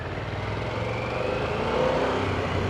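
A 2024 Harley-Davidson Pan America motorcycle engine pulls hard under steady acceleration, a continuous loud rumble that rises slightly in pitch; no speech.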